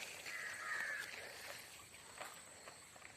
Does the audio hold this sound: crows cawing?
yes